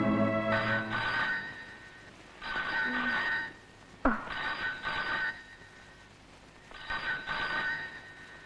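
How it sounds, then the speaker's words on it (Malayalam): A telephone rings four times, each loud electronic trill lasting about a second, separated by short quiet gaps. "ഫോൺ"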